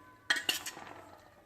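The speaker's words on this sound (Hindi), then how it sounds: "इन तमाम ड्राई इंग्रेडिएंट्स को अच्छे से चम्मच की मदद से मिक्स कर लेंगे" A metal spoon clinks twice against a bowl while stirring chaat masala into dry ingredients for papdi chaat, followed by soft scraping that fades out, close and otherwise quiet.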